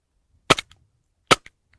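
A Glock-style BB pistol fires two sharp, loud shots on semi-automatic about a second apart, each crack followed by a quick mechanical clack, set outdoors.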